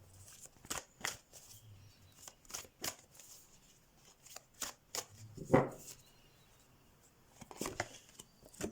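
Oracle cards being shuffled by hand, a series of soft close riffling and slapping bursts at irregular intervals, with one sharper tap in the middle and quiet pauses between.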